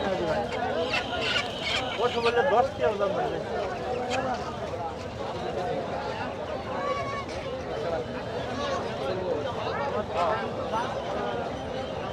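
Native chickens and geese at a rural village poultry market give scattered clucks and honks over a steady crowd murmur, with people talking throughout.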